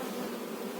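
Honey bees buzz inside a hive in a dense, continuous drone heard up close, with no pauses.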